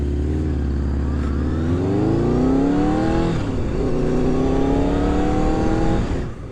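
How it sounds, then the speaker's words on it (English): Honda CBR600F motorcycle with an aftermarket exhaust can, its engine revving up in a rising throaty roar and easing off before climbing again, loud and close with no talking. "the engine feels and sounds lovely. Nice throaty roar to it."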